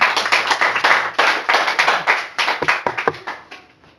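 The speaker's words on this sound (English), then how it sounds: "Give a hand clap to Jesus." Congregation at a church service claps hands to Jesus: a close, loud run of rhythmic, fairly even claps lasting the whole stretch, thinning slightly toward the end.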